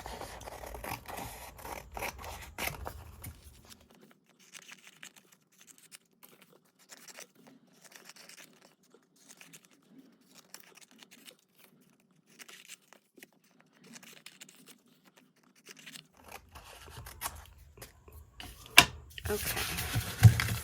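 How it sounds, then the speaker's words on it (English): Scissors snip through paper while cutting out 2-inch paper circles for a paper-clip craft, a long run of small, close crisp cuts and crinkles with rustling handling noise at the start and end. "And now let's cut out our 2-inch circles, the base."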